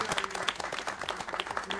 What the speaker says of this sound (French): Merci beaucoup, on va les applaudir.